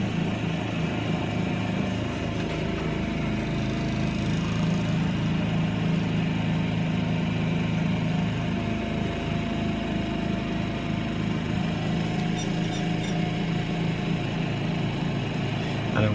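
Wood lathe spinning a yew table lamp while it is buffed with kitchen towel, a steady loud motor drone with a constant mechanical hum and no pauses throughout.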